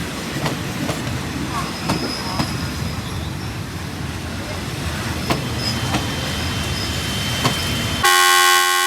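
Passenger train 167 from Bangkok to Kantang rumbles past at Ban Phachi junction, a steady low rail roar with sharp rhythmic clicks of wheels over joints, ending in a brief loud horn toot.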